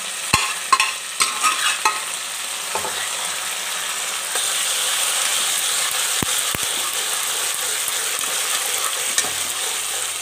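Wet saag greens being fried and dried in a pan, a continuous hissing sizzle with scattered clicks and scrapes of stirring at the start, fairly loud and close, with no voices.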